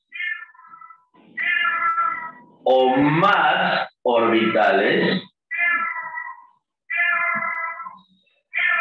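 A cat gives a string of drawn-out, wailing meows, close and loud, with short pauses between them and a voice speaking briefly.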